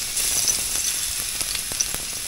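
Garlic sizzling and frying in hot oil in a home kitchen, a steady crackling hiss with small pops throughout, close and fairly loud, no voices.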